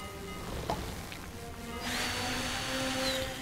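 An electric drill in the video game Lego Marvel Super Heroes whirs up partway through, a sustained high mechanical whine that holds steady to the end over quiet game background sounds.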